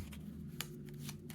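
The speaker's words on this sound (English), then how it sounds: "So we take these 5 probe cards, we shuffle them" Short burst of probe cards from a Star Wars-style solo board game being shuffled by hand, several papery riffles and slaps close up over a steady low background hum.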